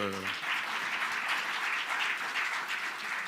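Applause from a conference audience at a forum opening ceremony, dense steady clapping that fills the whole span after a brief tail of a voice at the start.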